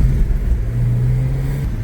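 The Little Ripper cruising on a sunny Florida day, a steady close engine drone and road rumble with a slight rise in pitch mid-way, no voices.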